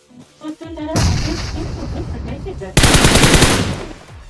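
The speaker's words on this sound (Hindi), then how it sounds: "अब इस बंदे को फायरिंग दिया" Rapid automatic gunfire in the battle royale mobile game BGMI, a few short bursts followed by a loud sustained volley of close shots, with no talk over it.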